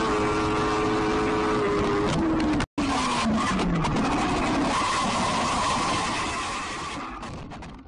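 Motorcycle crashes on a motorway and slides for metres along the road, a loud engine tone dropping in pitch, a brief cut, then harsh continuous scraping and wind roar that slowly fades.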